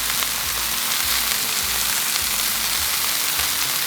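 Burgers sizzling in oil on a Blackstone griddle, a loud, continuous frying hiss with faint scraping, no voices.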